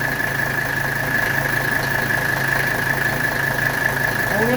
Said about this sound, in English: There, our compressor just kicked on.